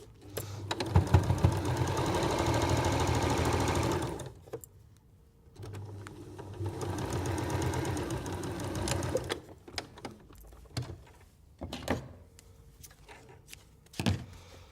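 A sewing machine runs a seam through patchwork fabric in two sustained whirring bursts separated by a pause, followed by scattered clicks, thunks and fabric handling sounds up close.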